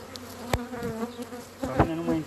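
Honey bees on a hive frame buzz close by in a steady drone, with a few sharp knocks and clicks from handling the frame.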